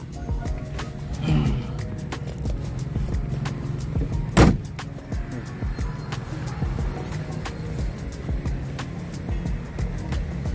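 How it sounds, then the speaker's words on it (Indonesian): A 1980 Toyota Corona with something loose in the exhaust runs with a low, steady engine rumble overlaid by rapid, irregular rattling clicks and one sharp knock, heard close up inside the car. "Ini ada suara knalpotnya, kayaknya ada yang longgar ini."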